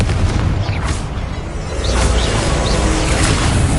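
Confringo explosive spell cast in Hogwarts Legacy, a loud booming rumble with swooshing bursts and pops, sustained and dense throughout with no talk.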